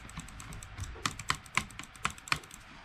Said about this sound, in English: I'm actually kind of clicking a bit fast now.